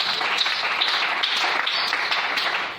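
A congregation applauds at a French-language church service, dense and steady clapping that fills the whole moment at close range.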